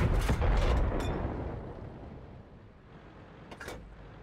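A tank gun fires in a tank video game, a few sharp booming blasts at the start that fade into a rumbling tail, then another burst of shots near the end, with no talk.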